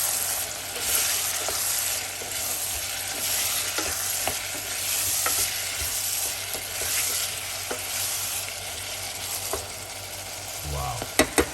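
Tinned mackerel in tomato sauce with vegetables is stirred in a hot pan, giving a continuous close sizzle broken by repeated scraping strokes and ending in a few sharp clinks of utensil against pan.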